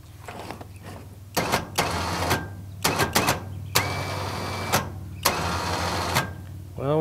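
A Badland ZXR 5000 electric winch on a car trailer, worked by remote, runs in several short motor bursts with pauses in between over a low steady hum.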